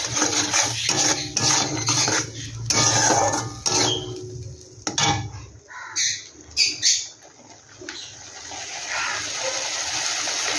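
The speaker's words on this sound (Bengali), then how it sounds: "জল দিয়ে মশলাটাকে ভালো করে একটু কষিয়ে নিই" Masala being fried and stirred with a splash of water in a pan for a prawn (chingri) dish, with clattering spoon-on-pan scrapes and sputtering bursts, close and uneven, later giving way to sharper intermittent clinks.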